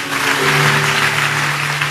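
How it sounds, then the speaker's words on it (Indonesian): Church congregation clapping together during a sermon, a dense steady wash of applause filling the whole moment, with a faint sustained musical tone underneath. "Beri tepuk tangan yang meriah buat Tuhan."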